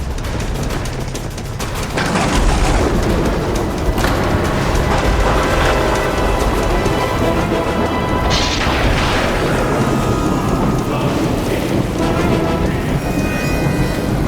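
A violent thunderstorm with heavy rain: a loud, dense downpour roars throughout while deep booming thunder rolls in repeatedly, with sharper cracks breaking through near the middle and toward the end.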